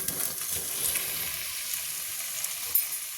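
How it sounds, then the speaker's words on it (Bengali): Fried potatoes being stirred into spice masala in a pan, a steady close hiss of sizzling oil with faint soft stirring underneath and no talk. "দিয়ে এবার মশলা আর আলুটা ভালোভাবে মিশিয়ে নিচ্ছি"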